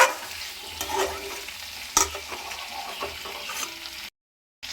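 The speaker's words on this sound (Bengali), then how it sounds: "আলুর সঙ্গে মশলাটা কষিয়ে নেওয়া হয়ে গেছে" Potatoes with spices and green chilies sauté in a pan for a fish curry, a steady sizzle broken by scraping stirs and a few sharp spatula knocks, then a brief silence before sizzling resumes.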